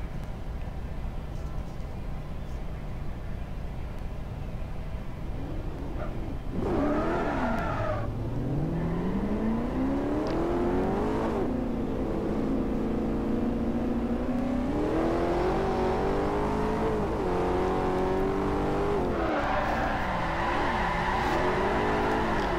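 Drift cars in a virtual Formula Drift video game at the Streets of Long Beach rev and slide, engine pitch sweeping up and down through long revving runs with some tire screech, steady and loud throughout.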